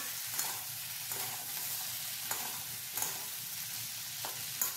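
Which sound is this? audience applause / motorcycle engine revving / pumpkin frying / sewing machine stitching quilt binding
pumpkin frying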